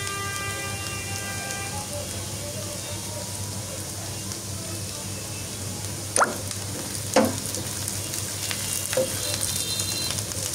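Onions sizzle lightly in a hot pan for a chicken, chana dal and vegetable dish, giving a steady soft hiss with a few sharp clicks and pops partway through.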